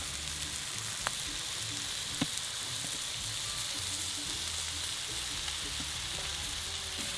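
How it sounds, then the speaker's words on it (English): Sausage patties and breakfast-sandwich buns sizzle in rendered fat on a barbecue, a steady close crackling fry with faint scattered pops and ticks and no talking. "I'm gonna slide these beautiful sausage patties and kind of lean them up against our barbecue just to get the buns in that rendered fat there"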